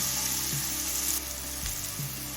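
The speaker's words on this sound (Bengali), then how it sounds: "গাজরটা দিয়ে আরো তিন চার মিনিট ভেজে নিয়েছি" Small diced carrot pieces for oats pulao sizzle steadily in a hot pan, a close continuous frying hiss with brief stirring scrapes and a faint hum beneath.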